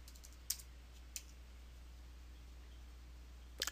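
A computer keyboard is used to enter a number into an Excel spreadsheet cell: a few quiet, isolated keystrokes, one near the start, one in the middle and a quick pair at the end, over a low steady hum.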